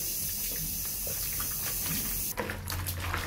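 Tap water runs steadily into a sink, then the flow shifts to a louder splashing as a face mask is rinsed under it.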